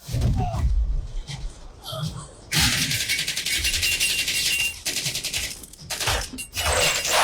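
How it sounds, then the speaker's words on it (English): Grenade launchers and heavy gunfire in a battle scene from the 2013 film Man of Steel, loud sustained bursts of blasts and rattling fire with impacts, close and dense throughout. "we're just firing grenade launchers in a potentially pressurized chamber?"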